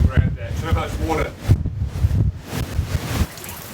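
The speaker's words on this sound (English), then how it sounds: "There's some mega gusts coming in." Strong wind gusts roar and buffet the microphone in surges during a snowstorm with heavy rain and snow at a storm-chasing campsite, loud and close, with bursts of wind noise rising and falling.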